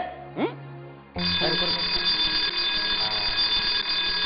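A fire alarm ringing at a school: after a short stretch of voices and sound effects, a loud, continuous electronic bell starts abruptly and rings steadily to the end.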